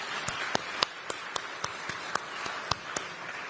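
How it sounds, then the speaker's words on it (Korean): Scattered audience clapping in a parliament session, a steady hiss of hands with a few louder individual claps standing out at irregular intervals, moderately loud and without talk. "큰 박수 한번 부탁드립니다."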